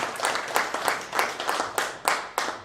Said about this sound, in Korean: 큰 박수 한번 보내주시기